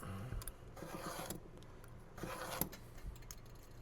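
Plastic wall piece from a Walthers HO scale building kit being cut, with short bursts of scraping, rasping strokes and small clicks, close and quiet, in an irregular rhythm.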